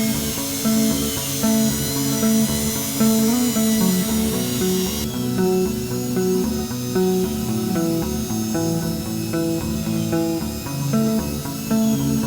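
A power sanding tool with a 3000-grit disc sands a car headlight, whirring steadily and continuously, a high buzzing drone that shifts slightly in tone partway through.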